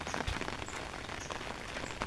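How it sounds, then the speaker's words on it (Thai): Heavy rain pours over rice fields, a dense, even patter of drops that continues for the whole short stretch at moderate loudness, with no voices. "ฝนตกอิน ตกหนักโพดพี่น้อง"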